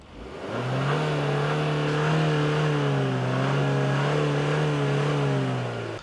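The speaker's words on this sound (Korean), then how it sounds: "자, 이 소리와 엔진룸을 연 상태에서 사운드 체크를 한번 해보죠." A Hyundai Palisade's 2.5-litre turbo four-cylinder engine idles steadily nearby with the hood open, a smooth, even hum, rising slightly and settling, running alone without voices.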